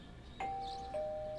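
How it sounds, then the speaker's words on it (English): Two-tone ding-dong doorbell chime from the Persona 4 Golden video game, two clear, ringing notes in quick succession over a quiet background, with no talk. "You hear the doorbell ringing."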